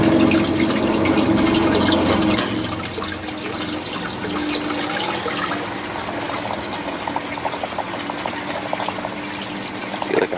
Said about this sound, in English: I feel like I'm water gunning these things.